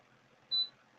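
A crafting machine gives one short, clean high-pitched beep, brief and fairly close against a quiet background with no speech.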